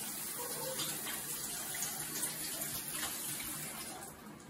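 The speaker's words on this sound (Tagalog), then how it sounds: "Ngayon, pwede na po nating banlawan." Hands being rinsed under a running water tap during handwashing: a steady, moderately quiet splashing stream of water flows continuously throughout, easing slightly at the end.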